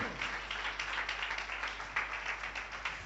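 A church congregation at an all-night prayer meeting claps together, a dense rapid patter of many hands, moderately close and steady, with a voice faint underneath.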